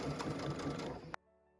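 A sewing machine stitches around a pillow in a short burst of quick, rhythmic mechanical chatter, close up, then stops abruptly into near silence.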